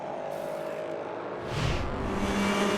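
Race cars at the Monza 4 Hours endurance race, including the JMW Motorsport Ferrari, with a steady engine drone that rises into a louder, closer roar as a car sweeps past.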